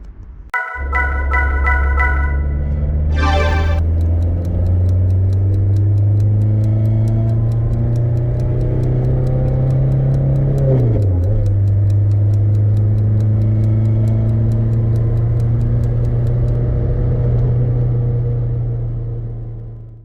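A 1993 Citroën ZX with a 1.9 turbo diesel and five-speed gearbox drives on an open road, heard from inside. Its engine drones loud and steady. A shift midway drops the pitch briefly before it settles into a constant cruising hum.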